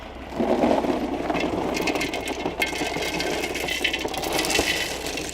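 Drainage rocks tumble into the bottom of a garden container, a close, steady rattling and crunching of stones that runs alone for several seconds.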